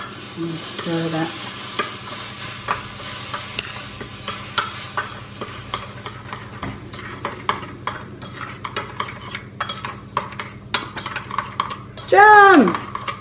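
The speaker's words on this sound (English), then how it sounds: "Oh my god, you can hear the burn, the sizzle." Low, steady sizzling of hot jam with scraping and clinks of a utensil stirring it in a pan, ending in a brief louder scrape.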